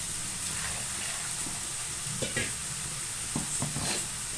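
A spiced tempering sizzles softly in a pan as a little water is poured in, with brief splashy bursts and stirring scrapes over a steady hiss; no one speaks.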